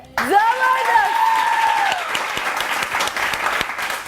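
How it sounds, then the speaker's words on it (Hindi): A crowd breaks into sustained applause, loud at first and gradually thinning, with a voice briefly calling out as it begins. "इसके लिए तालियां बजाओ यार।"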